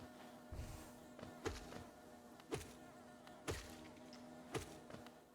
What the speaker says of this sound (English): There's bees here